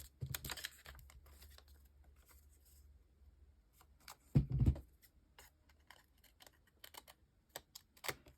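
Scissors cut through book page paper in a short crisp snip near the middle. Scattered soft clicks and paper rustles surround the cut in a quiet room.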